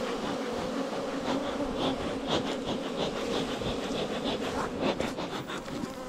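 Honeybees swarm around an opened hive during honey harvesting after being smoked. Their buzzing is dense, steady and close, with individual bees zipping past the microphone.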